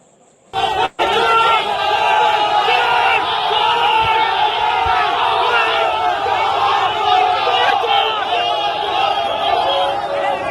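An agitated crowd in West Bengal roars during an attack on a politician. After a near-silent second, a dense wall of shouting voices starts abruptly and stays loud and continuous to the end.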